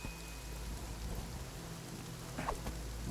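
Steady rain falls during a thunderstorm in Sons of the Forest, forming a constant wash with a brief louder crack near the end.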